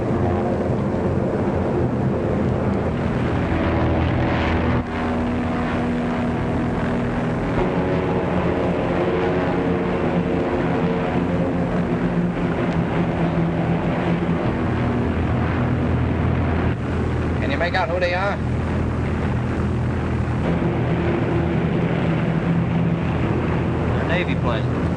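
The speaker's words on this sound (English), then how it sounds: "More Navy planes?" Navy planes drone steadily with a low, continuous engine rumble, accompanied by wind noise, while a person speaks briefly over the sound in a 1936 scene.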